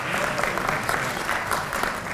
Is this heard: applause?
yes